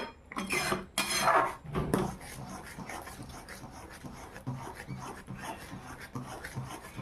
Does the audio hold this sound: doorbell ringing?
no